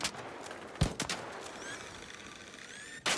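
Three shots from the Renegade rifle in the shooter ARC Raiders: sharp loud cracks, two close together early and a third after a pause, with faint mechanical ringing between them.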